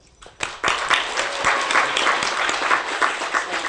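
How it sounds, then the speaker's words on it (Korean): An audience breaks into applause at a New Year gathering, with a few scattered claps swelling into steady, close, sustained clapping. "큰 박수 부탁드리겠습니다."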